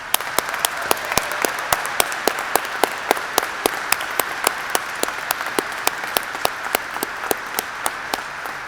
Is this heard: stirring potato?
no